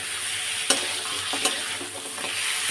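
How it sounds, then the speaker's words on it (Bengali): Fish heads frying in oil with spices and green chilli for a Bengali fish-head mung dal, a steady close sizzle with two sharp stirring clinks of a utensil against the pan. "মাছের মাথাগুলো খুব ভালো কষানো যাচ্ছে"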